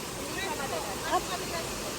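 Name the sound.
Shower Falls waterfall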